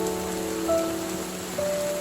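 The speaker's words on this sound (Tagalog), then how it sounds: "ngayon, sobrang lakas ng ulan dito sa aming lugar." Heavy rain pours onto a cemented road outdoors during a storm, a dense, steady hiss with a few faint tonal lines running through it.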